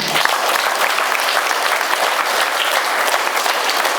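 A large audience claps loudly for the police at a public talk, dense and sustained applause that fills the whole stretch without letting up.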